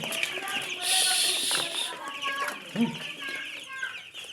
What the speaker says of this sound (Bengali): এই যে ব্রয়লার মুরগির বাচ্চা দেখুন, আমার ব্রয়লার মুরগির বাচ্চা দেখতে পাচ্ছেন